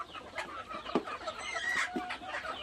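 Native desi chickens eating grass and grain give a few soft, scattered clucks and short calls amid light pecking and rustling, fairly faint and close, with no talking.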